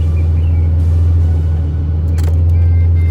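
A Ford AU Falcon engine that won't shut off idles with a steady, loud low rumble that keeps running without stopping.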